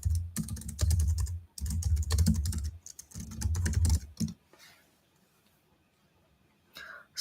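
Rapid clattering keystrokes on a computer keyboard come in three bursts of typing, fairly close, then stop, leaving quiet room tone with a faint soft sound at the end.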